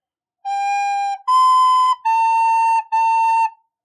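A recorder plays one measure of Au Clair de la Lune as four evenly spaced quarter notes, clean and breathy-pure, with the second note higher and the last two sharing a pitch, heard alone at close range.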